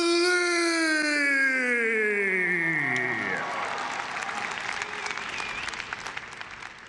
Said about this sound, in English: Make some noise for Victoria, the prodigy, Lee.